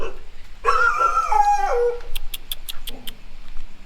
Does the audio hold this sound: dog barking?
yes